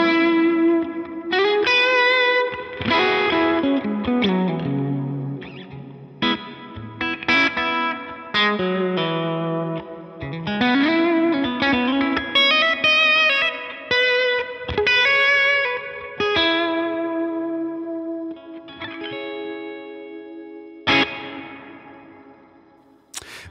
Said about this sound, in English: I think I'm going to come over to one of the newer reverbs called the Dynamic Hall